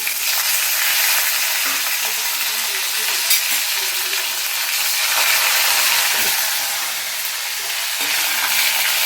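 Cumin seeds, a dried red chili, green chilies and curry leaves fry in hot oil for a prawn curry, giving a loud, steady close sizzle and hiss that runs throughout with small crackles and no talking.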